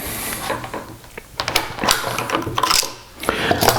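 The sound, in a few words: Barnett M95 bolt-action rifle bolt cycling and ejecting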